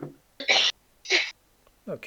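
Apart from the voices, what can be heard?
sneeze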